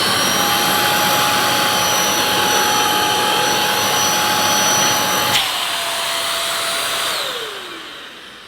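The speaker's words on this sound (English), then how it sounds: "let's plug in, see how noisy this vacuum is" A Goblin Essentials corded stick vacuum cleaner roars loudly with a high steady whine, then switches off around five seconds and spins down, its pitch sliding away as the motor stops.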